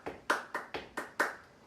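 Five sharp, evenly spaced hand claps ring out in a quick steady rhythm during a beginner tap dance lesson, close and crisp with no talking.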